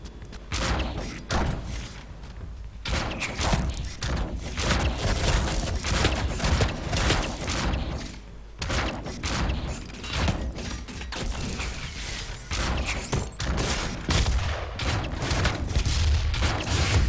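New weapons fire in a DOOM multiplayer match, repeated heavy shots and mechanical clunks going off in irregular bursts over a busy, rumbling game backdrop, steady and fairly close throughout.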